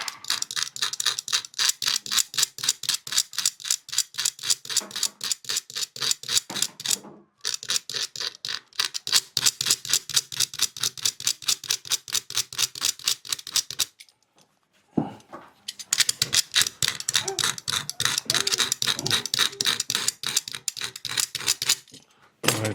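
A leather loafer upper is scratched hard to roughen it, with fast, rhythmic, close scraping strokes in long runs broken by two short pauses.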